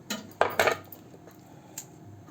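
A knife cuts the top of a raw banana to peel it, giving two sharp close clicks and scrapes on a hard surface, then a fainter tap against low room hum.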